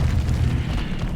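A Confringo fire spell bursts in Hogwarts Legacy on Nintendo Switch: one heavy, low, rumbling explosion that fills the whole second, loud and close.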